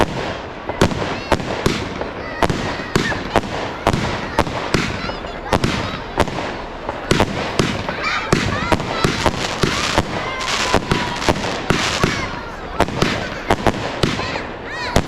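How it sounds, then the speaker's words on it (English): An Evolution Matrix 50-shot fireworks cake fires at a public display in Liverpool, a dense, continuous string of sharp cracks and pops with crackling bursts, loud and steady throughout, with faint crowd noise underneath. "In the middle this is Matrix from Evolution. 50 shot cake, lasts 40 seconds."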